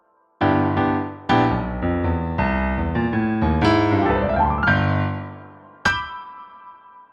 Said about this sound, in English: Here's the gliss.